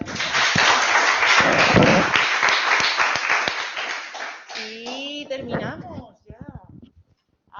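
Audience applauding speakers after a talk, a dense burst of clapping with some sharp claps that fades after several seconds, followed by people talking as the noise dies down.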